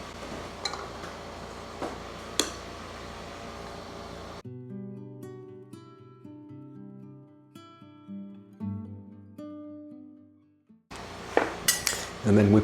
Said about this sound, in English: And then we put the bands on, just finger tight.